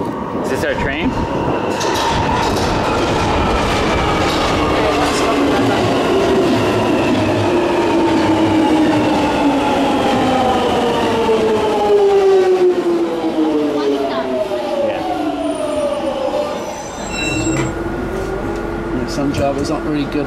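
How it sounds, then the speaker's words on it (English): A London Underground tube train pulls through a station, its motors whining in long rising and falling tones with rumbling wheels and squeals, loud and close, then settling to a lower hum near the end. "First ride on the tube."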